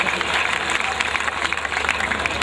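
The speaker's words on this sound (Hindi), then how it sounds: "जोरदार तालियों से उनका स्वागत करें" Broadband clapping from an audience at a comedy gathering, dense and steady throughout, loud and close, with some crowd noise mixed in.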